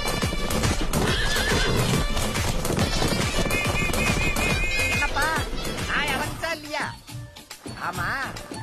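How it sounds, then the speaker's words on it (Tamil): A horse in a Tamil village comedy scene clip-clops and neighs loudly amid dense music and effects, with people talking throughout and the whinnies rising clearly above the mix. "நம்ம ஊர்ல குதிரை ஒண்ணு சுத்துது சுத்துதுங்கிறானுங்களே"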